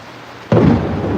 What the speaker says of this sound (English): Now that was thunder, wasn't it?